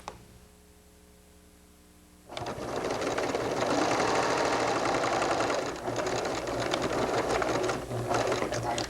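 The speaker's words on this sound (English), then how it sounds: "I join them at the sewing machine so that I'll apply them perpendicular like this, and I will sew right across from this point." A sewing machine joins sweater pieces, starting after a quiet pause of about two seconds, then running steadily and loudly with a fast rhythmic chatter, dipping briefly once before resuming.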